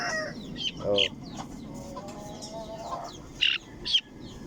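Backyard chicks peep and chirp in short bright bursts, with some clucking from chickens, moderately close; someone talks in Tagalog throughout.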